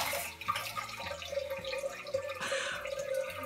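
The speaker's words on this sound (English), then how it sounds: "I literally just got a stream of water go straight up my butthole." Thin stream of water sprays steadily from a Tushy bidet nozzle into a toilet bowl, quiet and close, with a soft hiss and light dripping.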